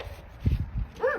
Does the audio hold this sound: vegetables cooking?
no